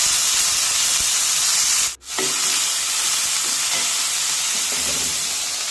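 Chopped green beans and long beans with curry leaves stir-fried in a pan for thoran, a loud continuous sizzling hiss with a brief drop near the two-second mark and faint stirring scrapes underneath.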